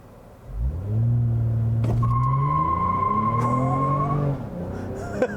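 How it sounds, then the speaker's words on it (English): A 2021 Toyota Avalon TRD launches hard from a standstill, its engine note rising steadily and loudly while tires spin and squeal, a sustained near roar lasting several seconds before easing off. "And I'm just gonna floor it from a stop."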